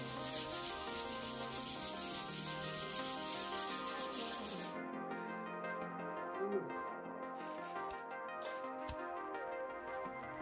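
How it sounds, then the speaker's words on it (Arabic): Sandpaper worked over small dried wooden pieces, a dense continuous rasping rub that is loud and steady at first, then turns thinner and more broken, with no talk. "الخطوه اللي جايه بقى ان احنا نصنفر الحتت دي"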